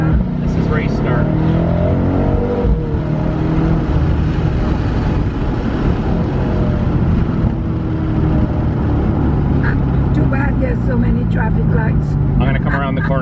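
Mercedes-AMG car doing a launch-control race start, its engine roaring loud and close inside the cabin as it accelerates hard, with people talking over the noise.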